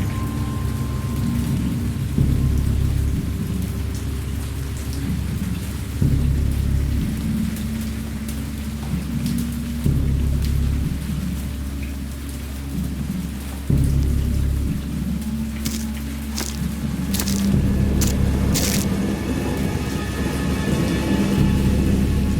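A heavy thunderstorm with steady rain on surfaces and repeated deep rolls of thunder, continuous and fairly loud, with no voices.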